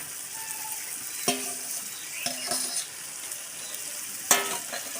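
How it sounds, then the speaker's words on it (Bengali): Chicken pieces and potatoes frying in a pan, a steady sizzle broken by several sharp scrapes and knocks of a utensil stirring them, close and without talk. "এবার ভালো করে আমি কষিয়ে নেব।"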